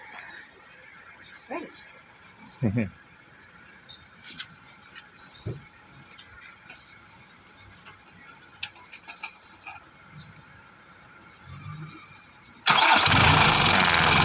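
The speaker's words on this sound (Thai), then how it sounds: "เดี๋ยวลองสตาร์ทดูนะครับ" A 2020 Isuzu D-Max with a 3.0 engine and a freshly fitted Yuasa battery sits quietly through scattered handling clicks and knocks, then cranks and roars to life loudly and close in the final second or two.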